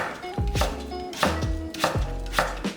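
A knife slices watermelon rind thinly on a cutting board, each cut ending in a firm thud, in a steady rhythm of about five close, crisp strokes with no talking.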